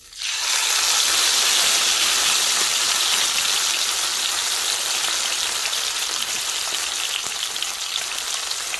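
Tilapia frying in hot sunflower or olive oil in a pan: a sudden loud, bright sizzle bursts in as the fish goes in, then holds steady and crackling throughout.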